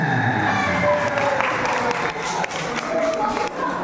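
Crowd at a Maulid Nabi religious gathering in a housing estate claps and cheers, a dense sustained round of applause that dips briefly midway, with scattered voices and calls throughout.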